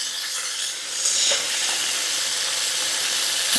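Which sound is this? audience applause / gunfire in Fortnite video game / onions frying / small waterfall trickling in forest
onions frying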